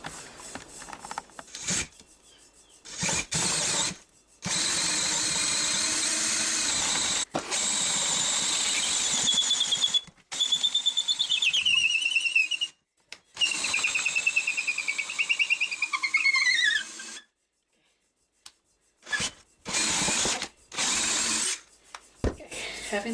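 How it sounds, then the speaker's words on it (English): A power drill bores a hole through wood for an electrical outlet, running in several loud bursts of a few seconds each, separated by pauses, with grinding and rubbing texture as the bit cuts. "Having the right drill does the job."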